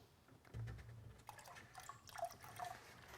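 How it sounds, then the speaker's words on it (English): Bleach solution being poured into water inside a plastic food container gives a soft, quiet liquid splash and trickle, with faint dripping sounds afterward. "So I'm going to go ahead and pour in my bleach."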